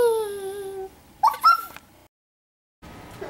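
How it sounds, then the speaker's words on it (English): In a Roblox Bloxburg game, a puppy gives a high, drawn-out whimpering whine followed by a couple of short yips, then a gap of silence before faint game ambience returns. "cute puppy. Cute puppy."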